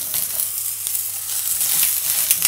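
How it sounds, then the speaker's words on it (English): Mushrooms and carrots fry in a hot pan for a Thai green curry, giving a loud, steady sizzling hiss throughout with faint crackles and light stirring. "Just allow it to fry a little bit."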